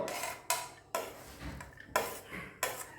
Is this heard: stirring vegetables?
yes